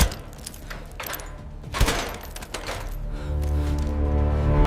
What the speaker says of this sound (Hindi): ताला खोलने की आवाज बहुत तेज लगती है